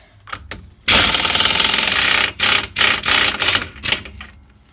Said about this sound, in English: take off the big bearing nut there, which is a 32mm socket